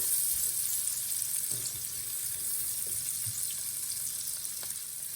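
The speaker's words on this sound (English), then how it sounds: "After the onion cooks for a couple of minutes, go ahead and add your sun-dried tomatoes." Yellow onion frying and sizzling in a pan for a Tuscan garlic butter salmon dish: a steady, moderately loud broadband hiss runs throughout, with a few faint low clinks and taps and no talking.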